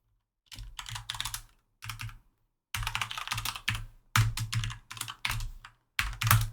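Computer keyboard typing in several quick bursts of crisp, close key clicks, each run separated by brief silent pauses.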